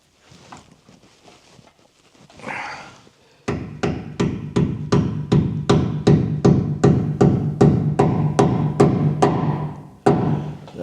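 A bushing is hammered into a Scout 800 rear leaf spring: after some quiet handling, a rapid run of about fifteen sharp, evenly spaced metallic hammer blows rings out loud and close, with a brief pause before the last strike.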